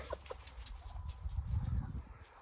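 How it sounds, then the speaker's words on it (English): Chickens at a layer chicken coop give soft clucks and murmurs, faint and a little distant over low rumbling background noise. "Now this is the layer chicken coop."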